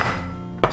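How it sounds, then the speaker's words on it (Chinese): Garlic cloves crushed on a cutting board: a single sharp smack of a blade near the end of a brief moment, with faint background music. "准备勾好的大蒜先拍碎"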